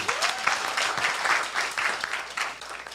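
A crowd claps steadily for a few seconds at a political meeting in Seattle, a dense, lively patter of many hands close by.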